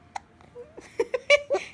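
A baby hiccups several times in quick, uneven succession, the sharp little catches sitting close and fairly loud in a quiet room with no talk.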